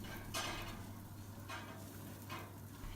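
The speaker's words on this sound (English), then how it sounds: "Stir it really good again." Minced meat seasoned with salt and pepper is stirred in a Dutch oven on a BBQ. Three soft scraping strokes come at a slow, even pace, faint over a steady low hum.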